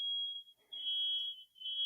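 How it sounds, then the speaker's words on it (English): A household smoke alarm sounds while steak cooks in the kitchen, a steady high-pitched electronic tone that briefly dips twice and resumes, fairly faint in the background. "You guys hear the fire alarm?"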